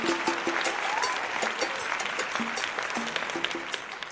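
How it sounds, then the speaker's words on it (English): An audience claps in welcome for speaker Valton Brown, moderate and steady, with a few scattered voices and faint cheers mixed beneath the clapping. "A round of applause, please, for Valton Brown."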